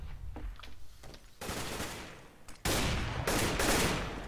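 Rapid bursts of automatic gunfire in Counter-Strike: Global Offensive on the de_mirage map, loud dense volleys starting partway through with scattered shots before, no talk.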